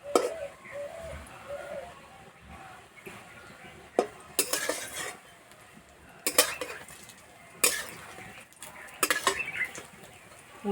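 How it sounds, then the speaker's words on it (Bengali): Egg and potato pieces frying in a pan, turned over with a metal utensil: sharp scraping clinks come in irregular bursts over a low, steady sizzle, fairly close. "উল্টে পাল্টে একটু ভালো করে ভেজে নেব।"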